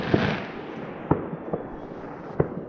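New Year's Eve fireworks over St. John's, heard through a window: a handful of distant sharp bangs spaced irregularly over a continuous crackling rumble.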